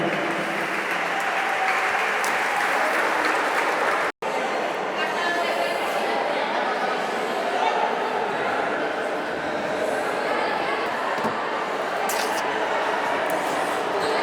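Sustained applause from an audience at a handball club's team presentation for the new season, a steady broadband clatter of many hands broken by one very brief dropout, with some crowd noise and faint voices mixed in.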